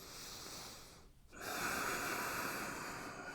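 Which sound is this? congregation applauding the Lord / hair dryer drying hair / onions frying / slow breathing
slow breathing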